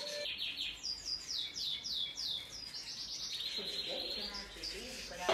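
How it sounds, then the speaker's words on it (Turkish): Canaries and other songbirds sing on a bird farm, rapid trilling chirps and repeated tweets close by, layered over a soft background murmur. "birbirinden değerli kanarya ve ötüm kuşları yer alıyor"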